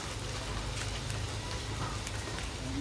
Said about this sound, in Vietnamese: nhưng mà trời lại tiếp tục đổ mưa.